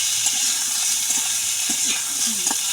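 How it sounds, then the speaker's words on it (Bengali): Potatoes frying in a pan give a steady, loud, close sizzle, with occasional scraping from stirring, and no talking. "আমরা গরিব মানুষ কি আলুটা একটু ভেজে নিলাম"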